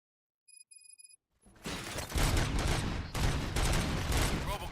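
Rapid bursts of gunfire erupt in a RoboCop video game, a dense, loud, continuous volley following a few short electronic beeps and a brief pause.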